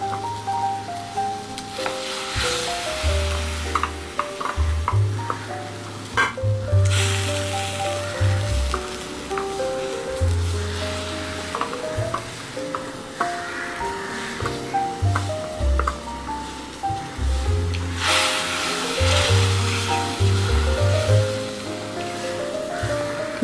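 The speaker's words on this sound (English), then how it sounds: "Let us cook this till the raw taste of tamarind goes." Tamarind pulp and cooked orange peel gravy for onion-free vathakuzhambu simmering in a pan, a continuous bubbling sizzle with recurring low thumps and occasional louder bursts, close and steady, no speech.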